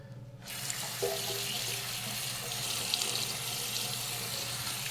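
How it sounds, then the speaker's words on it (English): Tap water starts up and runs steadily into a sink for hand washing after handling a 1975 Kawasaki KE125 motorcycle, a close, even rushing splash with faint movements in the stream and no voices. "I'm gonna have to wash my hands"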